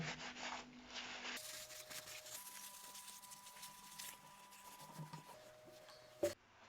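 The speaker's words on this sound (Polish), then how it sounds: "Czyścimy osłonę zamka tylną." The rear shroud of a Tikka T3 rifle bolt being wiped clean with a cloth, soft close rubbing strokes over a faint hum and steady tones, ending in a sharp click near the end.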